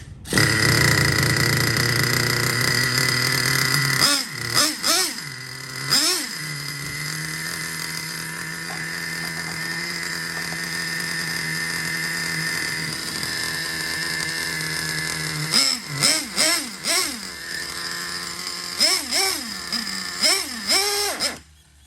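A Traxxas Jato nitro RC truck with a 3.3 engine idles with a steady buzzing drone, then revs up in several sharp rising blips, close and fairly loud throughout.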